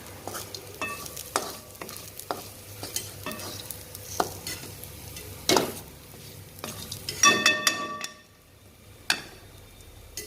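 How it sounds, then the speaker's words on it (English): Onions and spices slow roasting at low temperature in a pan for Indian kurma, a soft low sizzle broken by sharp spoon clicks and scrapes against the pan, irregular and close, quieter toward the end. "the onion is turning more and more glassy. And the spices are getting slow roasted at a low temperature"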